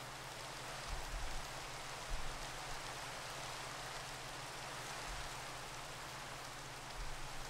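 Steady rain in Minecraft falls as a soft, even hiss with occasional low thumps, faint and continuous with no voices.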